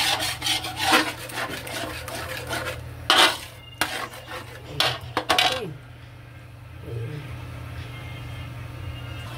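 Spaghetti being stirred in a cooking pan with cheese mixed in, giving repeated close scraping and rubbing of utensil against metal, busier at first and then fading to quieter shuffling.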